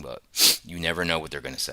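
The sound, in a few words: sneeze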